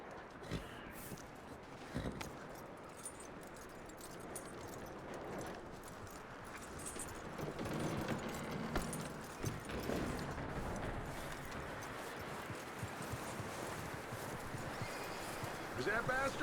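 Horse hooves clip-clopping and a horse snorting in the video game Red Dead Redemption 2, a steady, moderately quiet patter over ambient game sound with someone speaking calmly over it.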